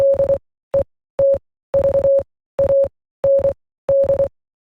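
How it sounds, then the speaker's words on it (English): Old radio in the Roblox game The Hunt beeps out a Morse code sequence: a steady mid-pitched tone keyed in short dots and longer dashes, grouped in regular bursts with clean silent gaps, loud and close with no talk. "you can find an old radio playing a sequence of Morse code."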